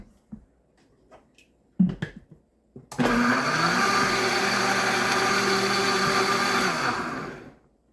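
A kitchen blender purees chili colorado sauce, switching on after a few soft clicks and knocks, then whirring loud and steady for several seconds before spinning down.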